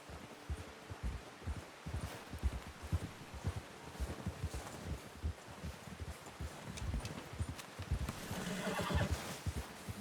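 Horse whinnies and neighs with clip-clopping hooves in Red Dead Redemption 2, steady hoofbeats throughout and a louder burst of neighing near the end, with no talk.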